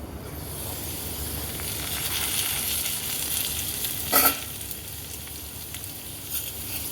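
Potatoes fry in a pan with the lid closed, giving a steady, even sizzle throughout, broken once by a brief louder clatter.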